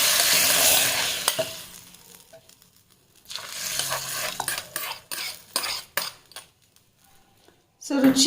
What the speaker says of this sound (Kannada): ಇದಕ್ಕೆ ಸಾಸಿವೆ ಮತ್ತು ಇಂಗಿನ ಒಗ್ಗರಣೆ ಅಷ್ಟೇ ಸಾಕು, ಇನ್ನೇನು ಬೇಡ